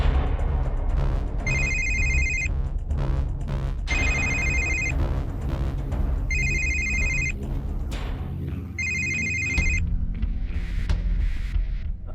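A telephone rings in four repeated electronic bursts, evenly spaced, over a low background rumble indoors, with no talking between the rings.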